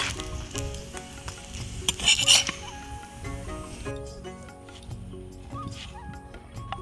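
Oil sizzles and crackles around frying wheat-flour flatbread, with scraping and stirring sounds, a louder burst early on, and faint background music.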